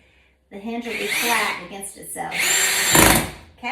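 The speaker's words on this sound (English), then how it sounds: "when you hear that sound, it's because the drill bit has lost contact with the screw head, and that's what strips the screw" A power drill whirs in short bursts while driving screws into a door hinge on a door frame, with one harsher burst as the bit slips and strips a screw head, heard close and partly under a person speaking.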